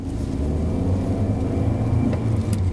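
A 2020 Kia Soul compact car drives along, heard from inside the cabin as a steady, fairly loud low rumble of engine and road noise without speech.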